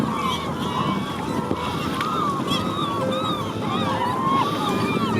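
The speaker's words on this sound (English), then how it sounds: "As we approach, we disturb a blizzard of gulls." A flock of gulls disturbed near a cannery in Lazy Bay calls in overlapping shrill cries over a steady boat engine and wind rumble, with no one speaking.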